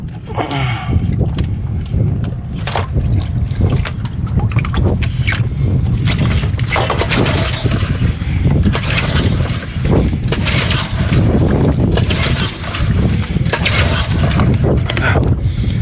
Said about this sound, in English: let's get this motor started